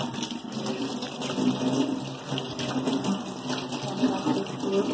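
A kitchen tap runs steadily into a sink while something is washed under it, a close, continuous gush and splash with shifting water sounds and faint background voices.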